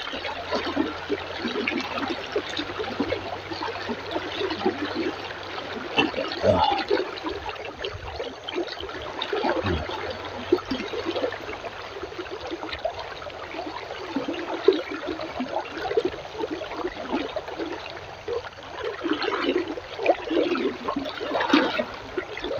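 Strong river current rushing steadily, a continuous broad wash of flowing water with no one speaking.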